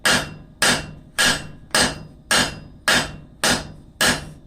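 Hot steel is hammered on the horn of an anvil while drawing out a taper to forge blacksmith calipers, eight evenly spaced, sharp ringing blows with short decays, close and clear with no talking.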